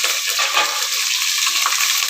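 Onions sizzle and fry in a pan with rock salt for mutton biryani, a steady, close, bright crackle with soft stirring scrapes and no voices.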